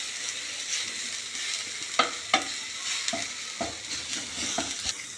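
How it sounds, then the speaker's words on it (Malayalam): Onion, tomato, chilli and coriander powder frying in a pan, a close steady sizzle broken by several sharp scraping stirs of a spoon against the pan, no voices. "ഇതെല്ലാം ചേർത്തിട്ട് നന്നായിട്ടൊന്ന് ഫ്രൈ ചെയ്യുക."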